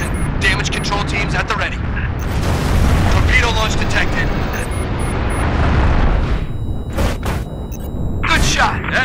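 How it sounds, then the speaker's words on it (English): Deep booming rumble and roaring bursts from a torpedo launch in Halo Reach, with radio voices talking over the loud, sustained blasts. "Torpedo launch detected."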